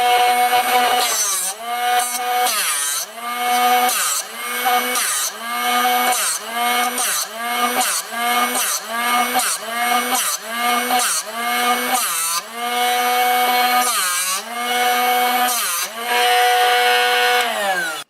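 A Drill Doctor 750X drill bit sharpener grinds a dull drill bit in steady repeated bursts, about twenty short strokes, each with a harsh whirring rasp that rises and drops, loud and close.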